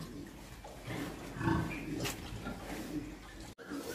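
A CP breeding sow gives birth on a farm, with low grunts and snorts rising briefly mid-stretch while a person talks nearby.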